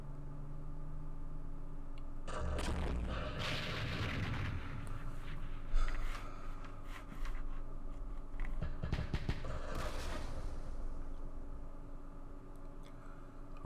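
105 mm artillery in the Campaign Series Vietnam wargame: several muffled booming explosions over a steady low background hum, moderately loud with short rumbling tails, with no voices.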